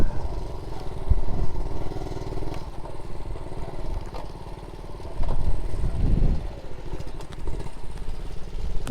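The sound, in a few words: Honda Monkey Z50 J1 motorcycle riding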